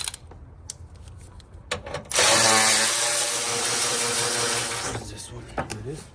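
A power tool bolting the radiator back into a 2017 Toyota Corolla, a loud sustained whirring burst of about three seconds after a few short clicks and handling noises, with some talk nearby.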